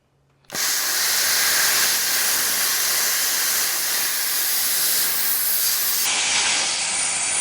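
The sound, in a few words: plasma cutter cutting a straight line in 1/4 inch metal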